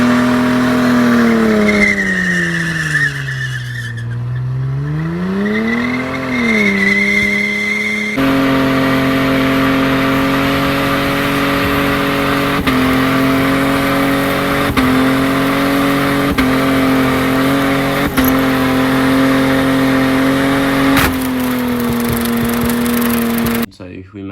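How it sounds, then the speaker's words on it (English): A Holden VS Commodore, warmed up to temperature, does a long skid: the engine holds a steady high-revving drone while tires squeal and scrub, loud and close throughout, with a brief rise and dip in revs early on. "we have warmed the car up to temp and then done the skid."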